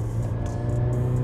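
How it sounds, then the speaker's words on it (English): Remark Sports Touring catback exhaust on a 2022 Toyota GR86/Subaru BRZ, giving a steady, moderately loud sporty drone with a low engine tone held throughout, no voices. "It's got a very sporty tone to it that's not too loud, it's not raspy, it sounds great when you get on it."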